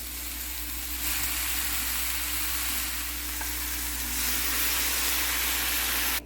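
Shrimp stir fry sizzles steadily in a hot pan, a dense, even frying hiss that holds for several seconds with no voices.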